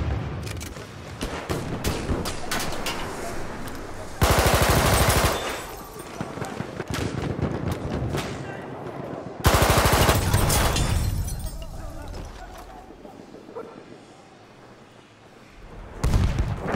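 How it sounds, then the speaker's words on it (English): Rapid SMG 08/18 hip-fire bursts in Battlefield 1 rattle loudly in close, sustained strings with brief pauses, and heavier explosive blasts crash through twice among the gunfire. "Once again, all I did was hip fire."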